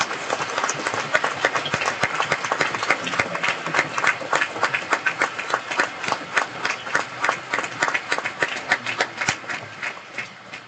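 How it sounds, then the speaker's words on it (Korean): A church congregation at a Friday night worship service claps for its young people, a steady, rhythmic unison clapping that grows more regular and pulsing toward the end, continuous throughout. "우리 청년들을 위해서도 박수 한번 치겠습니다"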